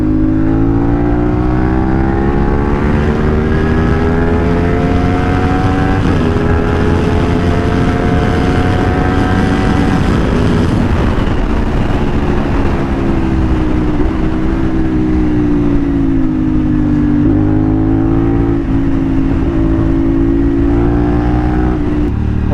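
A CFMOTO 450SR motorcycle fitted with a loud Akrapovic exhaust accelerates hard through third gear, its engine note rising steadily and holding loud and close for the whole stretch with no talk over it.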